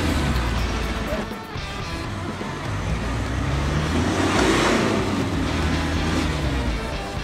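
A 4x4 engine revved and held steady around 2000 rpm during winching on an overland trip near Laguna Mojanda, Ecuador; a continuous loud drone runs throughout, with muffled voices in the background.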